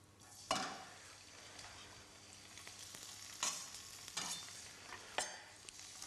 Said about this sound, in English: we're just going to saute that very gently in a small amount of olive oil